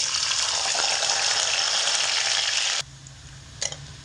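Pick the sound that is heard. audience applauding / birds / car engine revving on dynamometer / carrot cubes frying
carrot cubes frying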